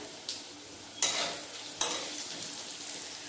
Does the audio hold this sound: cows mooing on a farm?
no